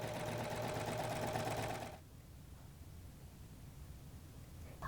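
A serger whirs steadily for about two seconds sewing a seam, then stops, leaving a quiet room hiss.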